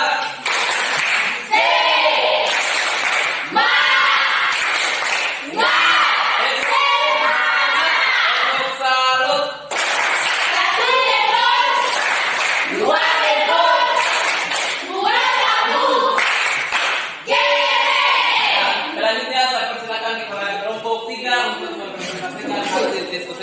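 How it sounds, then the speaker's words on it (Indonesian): A classroom group doing a rhythmic spirit clap in a high school, loud patterned bursts of clapping interleaved with shouted chanting voices and cheers throughout. "Untuk itu kasih tepuk semangat."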